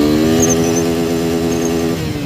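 Suzuki Gixxer 250 motorcycle engine revving close up, its pitch climbing smoothly as it pulls hard through the gears, loud and steady with no voices over it.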